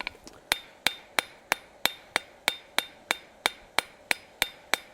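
Steady rhythmic hammer strikes texturing hot forged steel, about three per second, sharp ringing blows close up with no talking.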